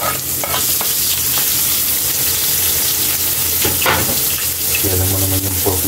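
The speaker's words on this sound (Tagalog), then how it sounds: "pwede na natin ilagay ang ating sibuyas para magisa na natin yung pork natin Kaylee" Onions and pork sautéing in a pan, with loud, continuous close sizzling and frequent stirring scrapes, plus a brief running-water sound near the end.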